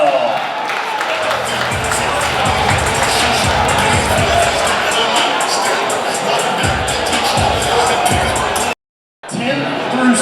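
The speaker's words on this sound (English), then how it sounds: "let's give him a big round of applause" Banquet crowd at a speedway awards dinner in a stockyards hall applauds and cheers for the season champion, a loud sustained wash of clapping and whoops with a brief dropout near the end.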